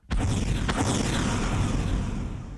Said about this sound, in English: a string of deafening explosions drowned out my father's voice